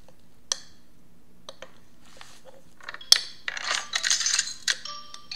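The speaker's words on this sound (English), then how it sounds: "Looks like the keys fell down from here." Keys drop and clatter: a few sparse metallic ticks and clicks, then a brighter jangling burst of keys tumbling together near the end, fairly close and alone.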